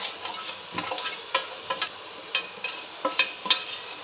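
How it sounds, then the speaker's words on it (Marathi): Agri masala with turmeric, asafoetida and salt sautéing over browned onions in a pan for crab rassa: a steady soft sizzle broken by repeated scraping stirs of a spoon, close and moderately loud, with no talking. "मसाला परतून घेतला आहे"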